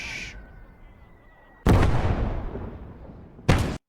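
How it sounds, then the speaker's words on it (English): Mortar shells in a World War II strategy game firing and landing: two heavy booming blasts with a long rumbling decay between them, loud and close over low background battle noise. "Another mortar."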